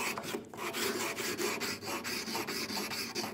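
Sandpaper glued to a 3/4 inch dowel rasps over a wooden saw handle in quick, regular back-and-forth strokes, close and fairly quiet, with no talking.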